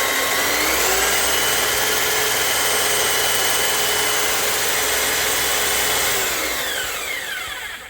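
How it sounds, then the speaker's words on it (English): A drill spins a magnet generator, a loud steady high-pitched whine that holds for several seconds with no talk over it, then winds down and fades at the end. "so this is drill assist in 3, 2, 1."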